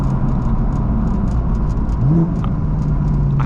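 A BMW M4 driving along, its engine note rising in a brief acceleration over steady road rumble and tyre noise, heard from inside the car with no talking.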